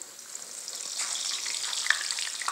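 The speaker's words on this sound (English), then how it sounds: "I rolled out a piece of dough, and I'm going to put it in the oil" Sopaipilla dough, a rolled flour tortilla, sizzles in hot oil, giving a steady soft crackle that builds slightly over a couple of seconds.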